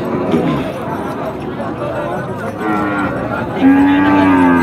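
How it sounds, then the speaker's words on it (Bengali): Heifers at a village livestock haat in Naogaon, Bangladesh, Sahiwal and Gir breeds, with one clear, loud moo rising near the end over steady crowd chatter and people talking nearby. "আমরা আপনাদের বকনা গরুগুলো দেখানোর চেষ্টায়।"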